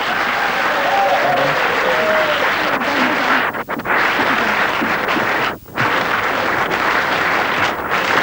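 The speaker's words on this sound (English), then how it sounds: "Give them a round of applause." A studio audience claps loudly and steadily for several seconds, a thick wash of applause with faint voices and brief dips in the noise.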